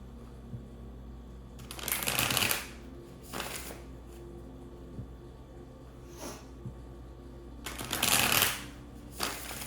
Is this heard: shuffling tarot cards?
yes